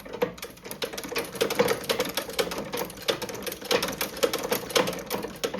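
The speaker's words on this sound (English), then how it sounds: "We're getting that stitching on there, look." An antique cobbler's machine from an old Doncaster shop stitches through several thicknesses of leather, making a steady, rapid mechanical clatter of repeated needle strokes that runs close and continuous throughout.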